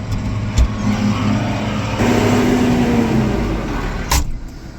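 Steady rumble of a tractor engine idling and running nearby on a farm, a low continuous drone with a brief knock near the start and another thump near the end, no talking.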